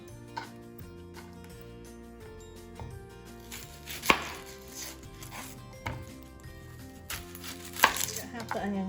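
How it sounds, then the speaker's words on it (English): A knife chops through a whole onion on a cutting board while making stuffing, with sharp, irregular blade strikes over a steady bed of background music, a few hits standing out louder. "now we're going to chop up a whole onion and add it to the celery"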